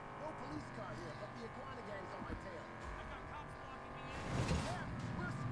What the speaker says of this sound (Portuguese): Agora a gente vai controlar o carro